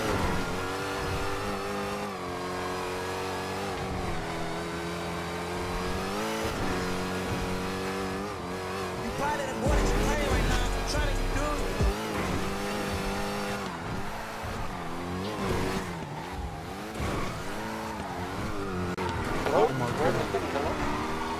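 Car driving fast in GTA V roleplay on NoPixel, engine revving and surging continuously with pitch swings as gears change, heard under steady overlapping talk throughout.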